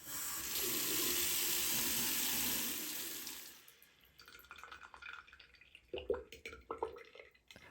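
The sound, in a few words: water draining from an open faucet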